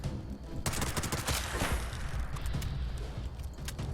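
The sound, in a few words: handmade rifle automatic gunfire in video game Fallout 76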